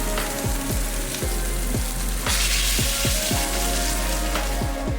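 Dry-aged pork chops searing in hot fat in a pan, a dense continuous sizzle and crackle with repeated sharp popping spatters, close and loud, with no talking.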